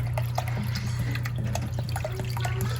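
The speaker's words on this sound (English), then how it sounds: "And then I'm going to add water to top. To fully cover the corned beef." Water is poured steadily into a pot to cover a corned beef, a continuous close trickling and splashing over a constant low hum, with no talking.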